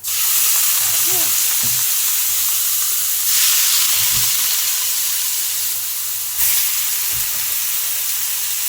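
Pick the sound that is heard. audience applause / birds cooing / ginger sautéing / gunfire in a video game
ginger sautéing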